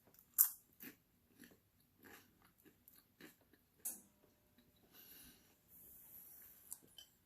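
Someone chews crunchy, cheesy carrot bacon close to the mic, with a sharp first bite and then a run of soft, irregular crunches and chewing sounds in otherwise quiet surroundings.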